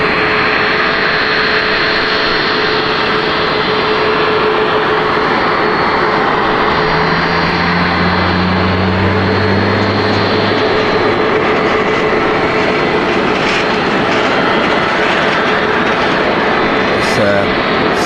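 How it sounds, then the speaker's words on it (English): Scandinavian Airbus A320neo taxiing onto a stand at the T1 end stands, producing a steady, broad jet-engine roar with a low droning hum that swells in the middle of the clip. "Scandinavian Neo about to pull up onto stand as well."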